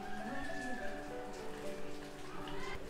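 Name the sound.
rain falling at Sillery Gaon, Sikkim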